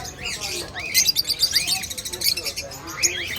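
Lovebirds at a Karachi bird market give bright, repeated chirps and short tweets in quick bursts, close and fairly loud over a low background hum of the market.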